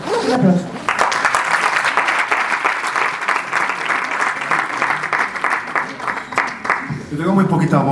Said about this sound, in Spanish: como lo habéis disfrutado. Un aplauso.